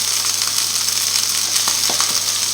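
A tournedos steak fries in a pan with a steady, even sizzle and light crackling pops, close up with no talking.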